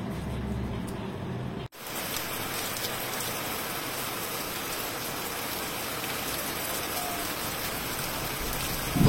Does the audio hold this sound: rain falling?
yes